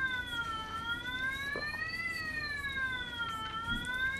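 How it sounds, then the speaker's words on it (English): A police car siren from the Sega Home Alone video game wails in a smooth rising and falling electronic tone, loud and continuous, with a few faint game blips underneath. "Cops are showing up and they're taking the wet bandits away."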